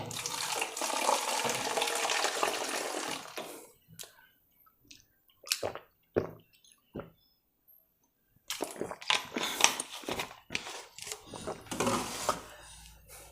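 Drinking water is poured indoors in short, splashy bursts broken by quiet pauses. It sounds close and fairly soft, and no one speaks.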